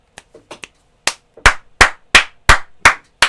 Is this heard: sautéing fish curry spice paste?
no